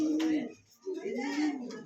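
A pair of blue Magpie Danish pigeons coos close by, two soft rolling coos separated by a brief pause.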